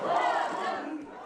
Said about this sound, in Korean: 이동할 때마다 환호 소리가 쏟아집니다